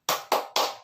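Three sharp, loud group hand claps in quick succession, close by, from people doing the tepuk gali lubang clap chant, each clap ringing out briefly before the next.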